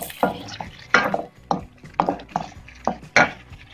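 Ground onion and yogurt go into chicken liver frying in a pan, with a run of sharp spoon-on-pan clatters and scraping stirs at an irregular rhythm, close and fairly loud, over a faint sizzle.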